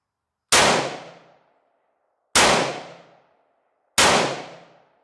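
Three sharp, loud gunshots about 1.7 seconds apart, each with a ringing decay, fired from a gun fitted with a Tacti-Net brass catcher that collects the ejected brass casings.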